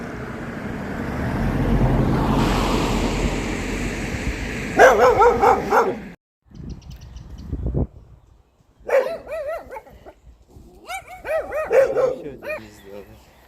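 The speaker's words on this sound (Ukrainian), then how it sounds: "Гавкай, гавкай на нас, давай." Outdoors on an Irish cattle farm, a dog lets out several sharp barks and yips at close range, mixed with whimpers, while people talk over and between the barking.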